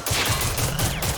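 Loud, close bursts of rapid gunfire in the video game Generation Zero, a continuous stuttering volley filling the whole moment.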